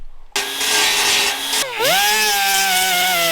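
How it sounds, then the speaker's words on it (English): A grinder works down a weld on a Jeep body, starting suddenly with a loud, high whine that dips briefly as it catches the metal, then spins back up and keeps grinding steadily. "Once that's cool, I'll hurry and grind this down a little bit"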